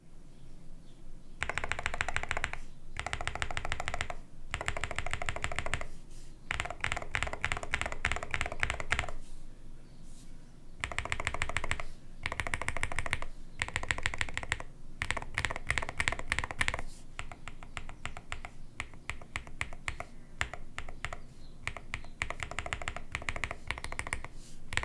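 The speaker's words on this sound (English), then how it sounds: "here is the sound comparison between the blue-gray switches that come pre-installed and the red switches that DrunkDeer will be offering separately" Typing on a DrunkDeer A75 Ultra keyboard compares blue-gray and red switches. Bursts of rapid, close key clatter alternate with short pauses, and the rhythm stays steady across the run.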